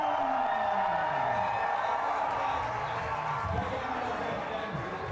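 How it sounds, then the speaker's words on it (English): A large crowd roars and cheers steadily throughout, a dense wash of voices that sounds like a packed stadium. "you hear the crowd cheering for both teams."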